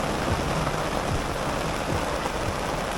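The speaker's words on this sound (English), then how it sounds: "we are getting poured on right now" Heavy rain pours down steadily at Perfect Day at Coco Cay, a dense, loud hiss of water on surfaces with no break and no voices.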